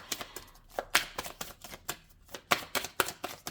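Oracle cards are shuffled and drawn, a run of quick, close riffling and flicking bursts in an uneven rhythm, fairly soft, with no talking.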